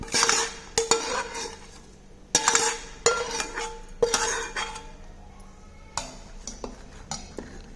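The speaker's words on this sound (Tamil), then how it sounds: "இப்போ இந்த வதக்கின பொருள்லாம் இந்த மாவில் சேர்த்துக்கலாம்" Sautéed ingredients are mixed into kara paniyaram batter in a bowl, with sharp metal clinks and scrapes of a spoon against the vessel in irregular bursts, and quieter stirring between them.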